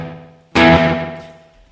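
A Roland RE-201 Space Echo plugin using heads 2 and 3 gives a two-step delay: a sudden bright burst of sound that hangs, then decays through fading repeats with a soft tail.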